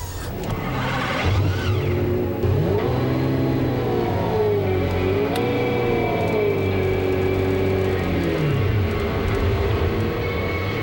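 A McLaren F1 road-going sports car engine revs up and down repeatedly, with a rising, wavering pitch sweeping through several throttle blips, loud and close, with no talking.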